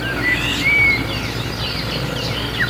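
Racing pigeons at their outdoor loft give a few thin chirps and calls over steady low background noise.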